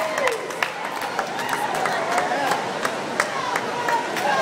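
A crowd at Mohegan Sun cheers and claps for Corey and Chumlee of Pawn Stars, a steady murmur of voices punctuated by scattered sharp claps at moderate distance.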